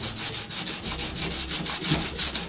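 Sanding down corroded metal during an RV fridge install, a fast rhythmic series of close, raspy back-and-forth rubbing strokes with no talking.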